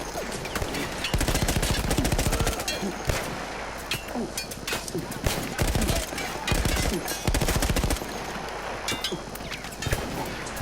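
A machine gun emplacement fires in Battlefield 1 gameplay, delivering loud rapid bursts of automatic fire with short pauses and scattered single shots and impacts, alongside some quieter game noise.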